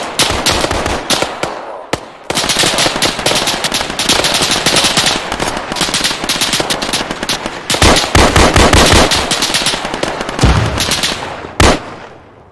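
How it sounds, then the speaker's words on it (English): Sustained machine gun fire in the Arma 3 military shooter game, long dense bursts of rapid shots, loud and close, with only brief pauses between volleys. "They're shooting over our heads."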